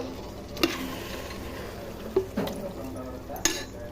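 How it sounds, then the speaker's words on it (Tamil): Chicken being mixed by hand with chilli powder, curd and lemon juice for biryani, soft wet squelching with a few clinks against the bowl, fairly quiet and close. "இப்போ கறியை நல்லா வந்து கலக்கிக்கங்க."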